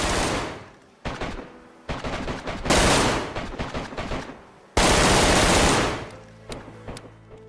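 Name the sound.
gunfire from a gun in the video game DayZ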